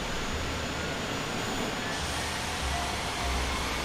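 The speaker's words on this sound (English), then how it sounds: "we're starting engine number 1" Engine number one of an Airbus A320neo spooling up during start in Microsoft Flight Simulator, a steady broadband jet roar with a low rumble, loud and continuous throughout.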